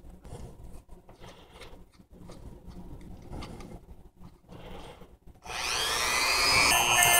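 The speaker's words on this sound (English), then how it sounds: "Going to use a rough sander for this." A rough sander flattens a drone camera mount, starting with soft scraping and handling noises before a loud, steady abrasive whir kicks in and holds close for the final seconds.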